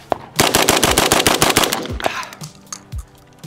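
A compact shotgun fires unsuppressed in a fast burst of loud, sharp close-range blasts, followed by a few scattered single shots and echoes.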